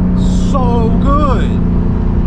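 A BMW M4 G82 with a downpipe and titanium straight-pipe exhaust roars loudly and steadily up close, with brief rising and falling revs layered over the continuous engine drone.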